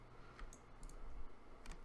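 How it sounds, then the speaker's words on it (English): Faint, scattered clicks of a computer keyboard and mouse, quiet and close, with a few sharper taps standing out. "My keyboard and mouse are loud."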